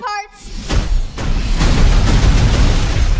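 A loud explosion from a Borderlands action trailer hits after a brief quiet lull, then a sustained, heavy rumbling blast with a few further bursts rolling on for several seconds.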